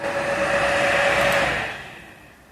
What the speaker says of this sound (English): max RPM of my older GPU was sounding like that.